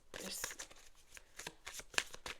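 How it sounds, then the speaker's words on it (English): Tarot cards are shuffled in soft, quick riffling bursts and papery slides, close but quiet, with a voice speaking over them. "there's such a different energy when I'm shuffling your cards"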